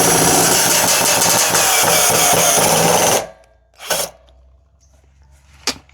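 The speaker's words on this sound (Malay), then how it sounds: "so sama juga kita korek lubang dekat bawah lagi untuk letak skru" A loud power drill bores screw holes into a wooden staircase under repair, whining steadily for about three seconds before stopping, followed by two brief knocks in the quiet.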